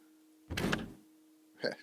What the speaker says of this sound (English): Do the doors work?